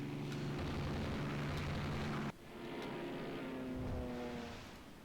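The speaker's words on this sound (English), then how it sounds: "Enemy ship unsighted is hit by a torpedo" A torpedo strikes a ship in the naval game Rule The Waves 2, setting off a deep, rumbling explosion that cuts off sharply and then swells into a lower, fading roar.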